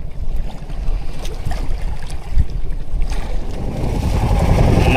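Rough Pacific Ocean waves and gusting wind around a small boat, a loud, constant rushing wash with low buffeting rumble, close by and with no voices.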